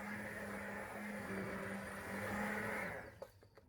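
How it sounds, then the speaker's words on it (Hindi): A hand mixer purees carrot and coriander soup, a loud steady motor whir with a buzzing hum churning through the pot for about three seconds before cutting off into a few faint clatters. "हैंड मिक्सर के साथ प्यूरे कर दिया है सूप को"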